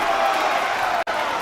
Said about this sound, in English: That Valley Torah crowd is rumbling over there behind the bench